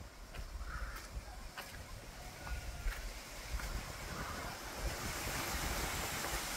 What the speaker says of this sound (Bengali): এই যে এই গেটটার অল্প একটু কানাস দিয়ে জলটা আসছে, তারই এত শব্দ।